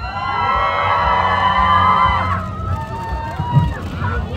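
Crowd cheering and shouting at an outdoor busking show at the Gyeryong military culture expo. A dense, steady roar of voices carries whoops and excited calls throughout, with one brief louder burst near the end.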